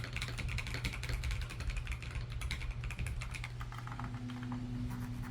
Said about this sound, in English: It comes with their Gen 3 orange mechanical switches, which I'll never get tired of hearing.